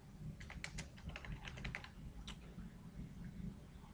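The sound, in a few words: typing code on a computer keyboard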